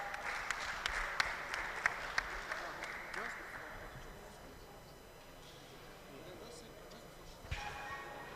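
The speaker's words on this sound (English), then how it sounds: "Please, a beautiful round of applause for her." Scattered hand claps from a small symposium audience for the first few seconds, then fading out into a quiet room murmur.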